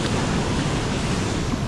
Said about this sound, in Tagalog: Ang lakas ng agos eh.